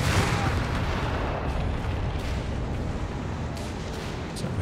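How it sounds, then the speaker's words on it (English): Howitzer barrage in the WWII strategy game Company of Heroes 3, a continuous roaring wash of distant booming shellfire with faint crackling impacts. "So the Howie barrage wore off."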